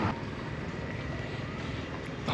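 Gusty wind during an approaching thunderstorm at an outdoor market in Thailand, a steady broadband rush that fills the whole clip at moderate level, with no voices.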